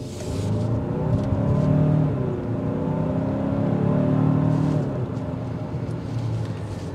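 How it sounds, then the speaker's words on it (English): A 2024 Hyundai Santa Fe Calligraphy's engine accelerates, heard from inside the cabin as a rising, steady whir that swells then eases, with no talk. "The engine exhaust will filter in."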